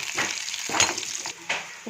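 Dry red chillies hitting hot oil in a pan while a patol chutney is cooked, a close crackling sizzle that swells and fades in short bursts over a couple of seconds.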